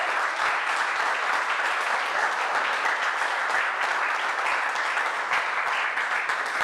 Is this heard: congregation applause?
yes